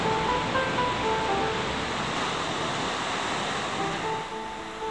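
Ocean waves breaking over the reef at a Sydney beach near Manly's Shelley Beach, a dense continuous roar of surf that stays loud throughout and eases slightly at the end.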